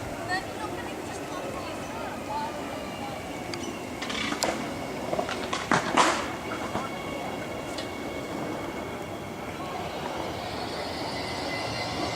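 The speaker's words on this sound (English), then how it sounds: "The Goodwood overpass with a heavy freight train just going over a level crossing." A heavy freight train rumbles over a level crossing beneath the Goodwood overpass near Goodwood Railway Station in Adelaide, a steady, broad wash of rail noise with a few brief metallic clanks and wheel squeals in the middle, background voices faintly present.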